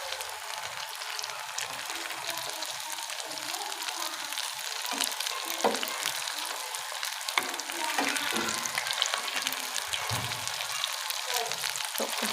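Crispy chicken and potato rolls fry in oil with a dense, steady sizzle and scattered crackles throughout, fairly close and alone.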